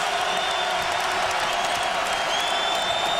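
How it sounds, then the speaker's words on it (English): A college basketball home crowd at Dayton, facing Xavier, roars and cheers in a dense, steady wash of noise that fills the arena without letting up. "and the crowd comes to life"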